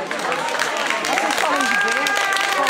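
Crowd applause at a Freedom Day rally in Évora, a steady broadband wash of clapping and cheering that runs the whole time, mixed with a voice speaking over it.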